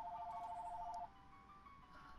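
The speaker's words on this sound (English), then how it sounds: "I'm getting a call, but I can't answer it." A faint electronic phone tone warbles in the background for about a second before cutting off, leaving quiet room noise.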